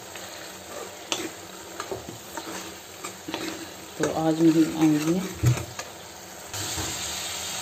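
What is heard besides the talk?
tadka tempering sizzling in a pan for dal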